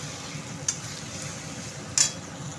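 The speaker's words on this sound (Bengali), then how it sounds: "মশলাটা খুব ভালোভাবে কষা হয়ে গেছে" Spices for a fiery red mutton curry are stir-fried in a pan under a soft, steady sizzle, with two sharp clinks of a spoon scraping the metal pan.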